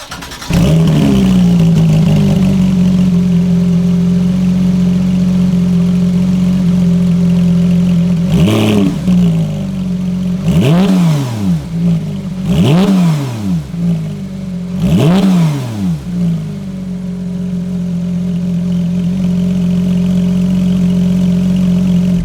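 A Porsche 911 GT3 RS with an aftermarket exhaust idles loudly after a startup flare, then gives four or five sharp, close revs in quick succession before settling back to a steady idle.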